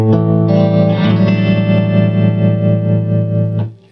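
Electric guitar played through a Louis Electric Princetone amp with reverb and slow, moderate vibrato: sustained, ringing chords wavering gently, loud and continuous before fading at the end.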